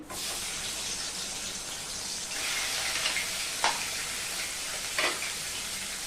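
Chopped potato and onion pieces going into a hot frying pan, a steady loud sizzle of frying with a few clinks of a utensil against the pan, no voices.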